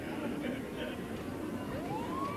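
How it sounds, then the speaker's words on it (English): Emergency sirens at a small-town parade, the 1990 Hudson Booster Days Parade on 2nd Street, faint and distant under steady crowd and street noise, with a rising siren wail emerging near the end. "we hear some sirens"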